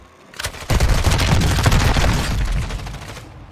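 Rapid automatic gunfire from Call of Duty Modern Warfare 2 rattles loud and close in a sustained dense burst lasting about three seconds, then tapers off.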